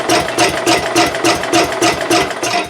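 A lawn mower engine with a crank no-start fault cranks over in rapid, even, loud mechanical pulses close by, never catching, with no voices.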